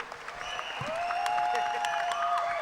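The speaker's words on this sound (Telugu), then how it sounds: "కనబడి కనబడని వాళ్ళ కోసం మనం ఎక్కువ క్లాప్స్ కొట్టాలి" Crowd applause at a film audio launch swells into a steady clatter of many hands, with tonal music lines running beneath and a voice faintly present.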